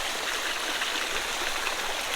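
Water rushing along a channel feeding a Himalayan water mill during the rainy season, a steady close gurgling stream with constant splashing and no voices.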